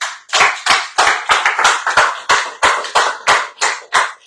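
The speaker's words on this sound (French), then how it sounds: "On peut les applaudir" Loud close hand claps from a small group at a radio show recording, falling into an even repeating rhythm of about two to three sharp claps per second, each decaying quickly.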